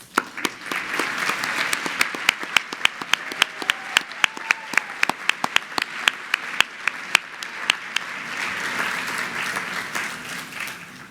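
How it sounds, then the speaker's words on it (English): An audience at an annual benefit event gives a round of applause for volunteers, sustained clapping with sharp individual claps standing out over the crowd. "please join us in a round of applause for these amazing group of volunteers"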